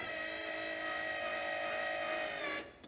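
An electric flap motor on a Challenger 2 ultralight airplane runs with a steady, high whining buzz for about two and a half seconds, then stops abruptly, heard close with no talking.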